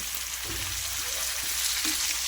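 Mutton that has fried to a red-brown colour sizzles steadily in a pan as five medium-sized onions go in, a continuous broadband crackle and hiss with a few soft stirring knocks, close and fairly loud, with no one talking.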